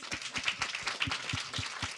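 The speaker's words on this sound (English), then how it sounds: "round of applause for Liz." A small audience at a talk on support for trans kids gives a round of applause, with irregular claps forming a steady, moderately close patter for a couple of seconds, alone without talk.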